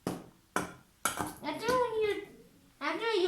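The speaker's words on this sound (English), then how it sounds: "Then mix it again." Cake batter with baking soda being mixed in a bowl: a few sharp clinks and scrapes of a utensil against the bowl, close and uneven, with a person talking over the later part.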